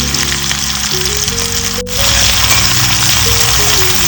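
Fennel seeds, chopped onion and green chili tipped into hot oil for a Goan brinjal masala curry, a loud, steady, close sizzle that swells slightly as more goes into the pan, with music playing throughout.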